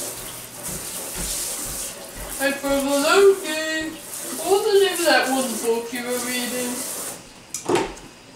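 Tap water runs steadily into a sink while a kitchen strainer, dirty from pump water, is rinsed under it, a continuous close rushing hiss with a voice speaking over it before the flow cuts off near the end.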